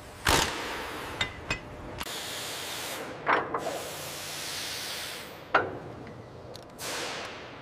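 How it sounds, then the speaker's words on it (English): Impact wrench torquing bolts on an M1 Abrams tank panel in a factory, several sharp bursts and rattling hits spaced by hissing air-like noise, fairly close, no talk over them. "Engaging the impact wrench."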